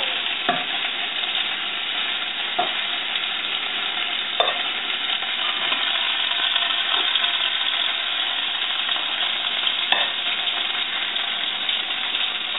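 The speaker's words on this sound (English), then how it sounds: "we've finished browning the meat, closing up the pores, keeping the juices locked in" Meat for a stew sizzling and frying steadily in a pot after browning, a continuous close hiss with a few scattered clunks of stirring or utensils, no voices.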